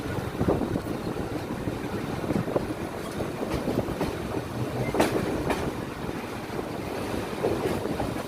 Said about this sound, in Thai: ตอนนี้นั่งอยู่บนรถไฟขบวน 372 สถานีกรุงเทพ